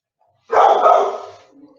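A dog barks loudly and close by in one sharp, sustained bark that trails off, heard alone with no talking over it.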